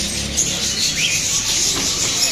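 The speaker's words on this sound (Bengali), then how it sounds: "অসংখ্য বাজারিকা পাখি আছে" Dense, continuous chatter of many budgerigars chirping together in a large bird shop, a steady bright twittering wash with no single bird standing out.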